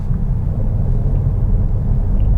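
A Citroen DS4 with a 130 hp petrol engine and 8-speed automatic kicks down and accelerates, giving a steady, dense low engine rumble heard from inside the cabin with no voices.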